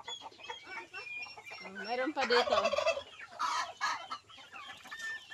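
Heritage chickens, including Light Sussex, Barred Plymouth Rock and Rhode Island Red, cluck and call in a yard after coming out, a cluster of nearby fowl voices with a person speaking briefly among them.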